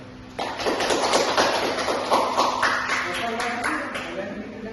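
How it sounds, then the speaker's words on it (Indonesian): A classroom of students applauds, a dense, steady burst of many hands clapping together that carries on for several seconds at moderate volume. "Kita beri aplaus untuk Yakub."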